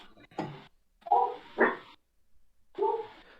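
A dog barks indoors in three short, loud bursts with pauses between them, sounding close by with no talking over it.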